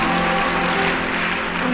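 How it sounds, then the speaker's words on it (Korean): Wedding guests in a Suwon hotel ballroom applaud after the ceremony's declaration: a dense, steady wash of clapping from a full room, with soft music running underneath. "여러분 큰 박수 보내주시면 감사하겠습니다"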